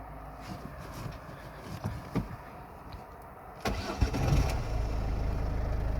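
A few clicks and clunks, then a Ford Focus Mk2 engine cranks and catches after an ignition switch replacement, settling into a steady idle close by.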